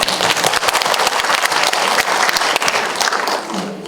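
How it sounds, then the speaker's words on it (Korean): Audience applause at a Korean long-term care workshop in Muan County, steady dense clapping from a seated crowd for about four seconds, fading slightly at the end. "박수 한번 쳐드리겠습니다"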